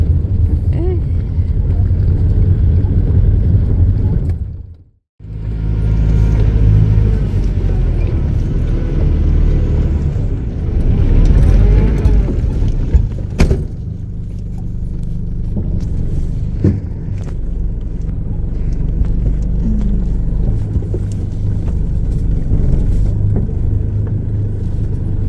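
A 4x4 vehicle cruises along a desert highway in the Sahara, its engine and road rumble loud, close and steady, broken only by a short drop-off early on.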